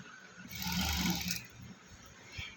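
A sewing machine stitches a cotton summer frock in a short, quiet burst of whirring that swells and fades within a couple of seconds, with no talking.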